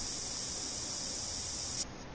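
A steady, loud aerosol hiss from a spray can used while hunting in The Hunter: Call of the Wild, held for almost two seconds and then cut off abruptly, with no talk over it.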